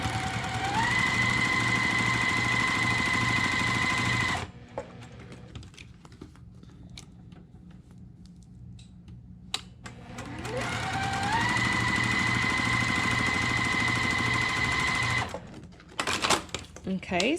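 A sewing machine stitches quilt pieces for a flying geese block, running loud and steady for about four seconds, pausing, then running again for another four seconds, with faint handling noise in the gap.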